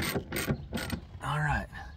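A nut is ratcheted down onto a bolt holding the visor of a boogie van, three quick rhythmic bursts of ratchet clicking followed by a longer whirring turn, close and clear.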